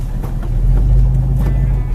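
A 1969 Chevrolet C10 CST pickup truck cruising along a road, its engine a steady low drone with road rumble, loud and close throughout.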